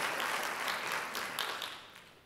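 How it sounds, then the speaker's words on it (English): An audience at a business talk breaks into applause, a dense wash of clapping that holds steady and then begins to fade toward the end. "Big round of applause for these people"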